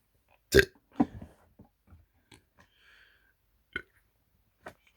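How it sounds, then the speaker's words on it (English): A rough burp bursts out near the start, followed by a few smaller belch-like bursts and short clicks, then two brief isolated pops later, with quiet gaps between and no talking. "Bloody burps."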